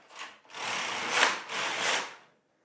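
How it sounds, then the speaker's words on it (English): Carriage of a Singer Solo hand knitting machine pushed across the needle bed, a brief scrape and then a longer rough sliding rasp that swells twice, close and clear, then stops. "I'm tensioning the yarn with my right hand and I take my carriage across."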